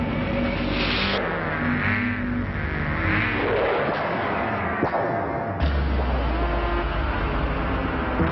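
A Honda Civic Si car engine, rated at 197 horsepower, revs loudly and accelerates in a TV advert, with roaring passes and a tire skid, the engine sound continuous and close throughout.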